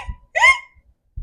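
A reader voices a single imitated hiccup, a short bright squeak standing alone in quiet narration of a Halloween picture book about a skeleton with hiccups.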